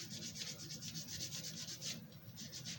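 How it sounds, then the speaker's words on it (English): Carved mahogany rubbed with light grit sandpaper, a quiet close-up rasping in quick, even back-and-forth strokes that continue steadily without pause. "I've got just a little light grit of sandpaper"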